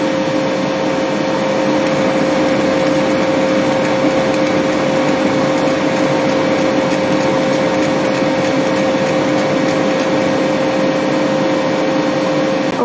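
A K40 laser engraver running a 3D test engraving at 250 mm per second hums steadily with a constant whine and fan drone, with faint rapid ticking as the head moves back and forth.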